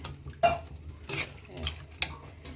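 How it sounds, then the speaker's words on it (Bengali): A spoon scrapes and clanks against a metal pot in a few separate stirring strokes through chicken curry, close and fairly quiet, with a low background hum. "দিয়ে মাংস একটু নাড়াচাড়া নেব"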